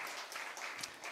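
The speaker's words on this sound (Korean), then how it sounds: "박수." A church congregation at an early-morning service applauds in a brief, dense patter of many hands, faint and alone without talk.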